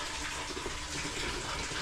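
Water pours into a tank in a bathhouse, a dense continuous rushing and splashing that stays at an even level throughout, with no voices.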